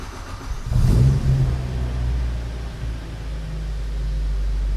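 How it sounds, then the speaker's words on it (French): A 2013 Morgan Plus 4 with a Ford Duratec 2-litre four-cylinder engine cranks and fires at about one second, briefly revs loud and close, then settles into a steady rumbling idle with no talk. "On reconnaît tout de suite la sonorité du moteur Duratec."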